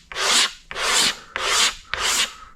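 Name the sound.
razor blade scraping paint off fuel tank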